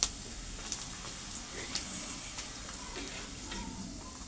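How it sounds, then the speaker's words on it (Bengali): Papad fries in hot spattering oil, a soft continuous sizzle broken by small pops and crackles, fairly quiet and with no talking. "তেল ছিটকাচ্ছে, বড় বড় হয়েছে।"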